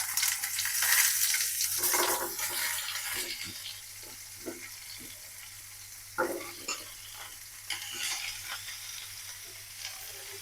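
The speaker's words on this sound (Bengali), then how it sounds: "ফুলকপি আলুটা ভেজে নেব।" Cauliflower and potato fry in oil in a pan, starting with a loud burst of hissing sizzle that settles into a softer crackle, with scattered stirring scrapes and clicks and no talking.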